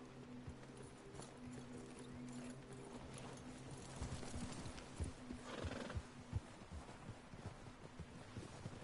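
Steady clip-clopping hooves from several horses in the video game Red Dead Redemption 2, with a horse whinnying midway, over a low droning background.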